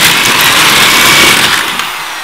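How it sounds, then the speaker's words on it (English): A drill bores ventilation holes into a Dell Inspiron laptop case with a loud, steady, high whirring grind that eases off toward the end. "we're going to just drill some more holes for ventilation"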